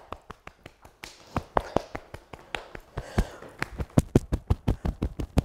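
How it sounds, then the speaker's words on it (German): People tap on their own bodies to wake up during a singing warm-up, a steady run of sharp taps that speeds into a dense, louder, regular patter, with some faint noise in between. "Wir klopfen uns noch wach."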